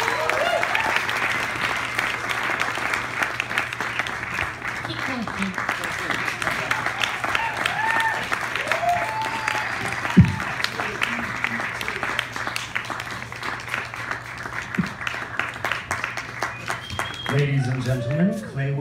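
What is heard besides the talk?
audience applause for Claywoman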